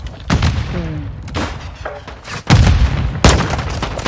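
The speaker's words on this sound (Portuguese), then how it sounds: "Fragmentação lançada!" A frag grenade explosion in the Call of Duty video game, heard among several heavy booming bursts and sharp cracks spread over a few seconds, with the loudest blasts coming late.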